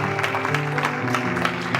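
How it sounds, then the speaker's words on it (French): A church congregation applauds during a ministerial presentation ceremony for a pastor in Paris, with brief, fairly quiet clapping over a soft sustained tone. "l'église de Dieu applaudit le Seigneur"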